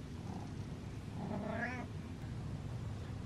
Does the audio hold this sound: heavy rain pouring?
no